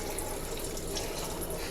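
Water runs steadily from a faucet in a 2012 Keystone Passport 3220 BH travel trailer during winterizing, a continuous broadband rush with no talk.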